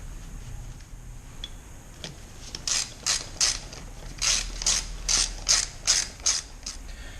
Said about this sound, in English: then you can use the wrench to drive them home